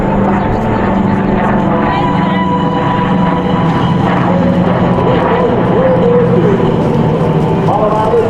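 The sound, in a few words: WWII C-47 aircraft flying past at an air show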